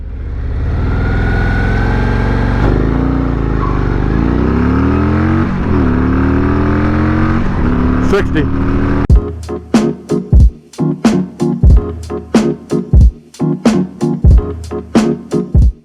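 Stock 2024 Harley-Davidson Road Glide 117 motorcycle in sport mode launching hard on a road, its loud engine rising through a long roaring pull, then a run of sharp, rapid, evenly spaced popping bursts as it accelerates toward 60.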